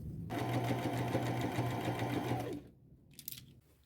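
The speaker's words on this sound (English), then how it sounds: "now I am just going to go around all my patches and appliques with a fairly small zigzag stitch using this thread" A sewing machine runs steadily, sewing a small zigzag stitch with gold thread around the edges of fabric patches and appliques on a jacket made from two shirts, then stops abruptly, followed by a few faint handling clicks.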